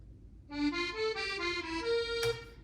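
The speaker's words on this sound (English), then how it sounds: "I'm just gonna take my existing concertina that sounds like this" A short reedy concertina phrase from an Italian-style hip hop beat made in Reason 11, a few sustained notes gliding from one to the next, quiet and alone.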